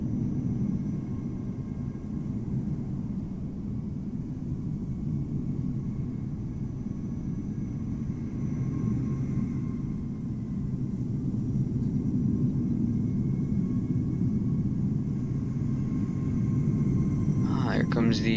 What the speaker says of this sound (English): Here comes the 777.